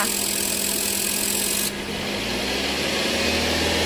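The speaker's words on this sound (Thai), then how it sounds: "เปิดแอร์คอมมีเสียงดังชัดเจนนะคะเร่งเครื่องค่ะ" Steady mechanical engine drone with a constant whine from a Mazda 3 air conditioning compressor; midway, as the engine is revved, the high hiss cuts out and a deeper rumble settles in, continuing loud and even.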